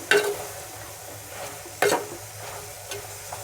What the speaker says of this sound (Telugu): వంకాయ ముక్కలు టమాటాలు పచ్చి అనపగింజలు ఎలా ఫ్రై అయినాయని చూడండి